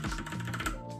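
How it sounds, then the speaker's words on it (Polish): Quick bursts of clicking keystrokes on a computer keyboard with color-changing backlighting, close and crisp, in a rapid uneven rhythm before a brief pause. "na tej klawiaturze mogę pisać dzień i noc"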